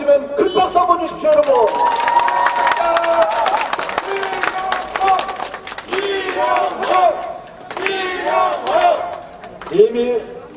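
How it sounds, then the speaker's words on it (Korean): A crowd at a Korean election campaign rally for Namwon, Imsil and Sunchang claps and cheers loudly for several seconds, with shouts and amplified voices mixed in. "큰 박수 한번 주십시오"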